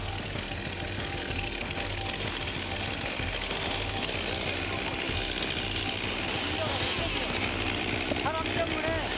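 A chainsaw cuts into the far side of a tree to free a saw stuck in the trunk, during tree felling; a steady, loud buzzing engine drone runs throughout with continuous cutting noise.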